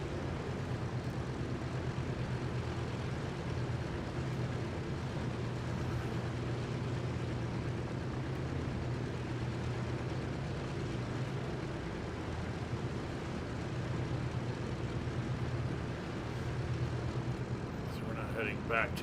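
A tail-wheel propeller airplane taxiing in a flight simulator, a steady low engine drone with a throbbing propeller hum running throughout at constant level.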